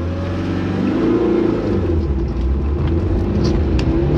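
A 14-year-old Evo 8 with a rusting muffler accelerates hard, its engine a steady, loud, droning rumble that builds throughout, heard from inside the car with no talking.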